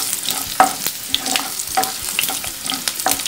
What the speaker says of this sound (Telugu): సో చిల్లీ వేయించుకోండి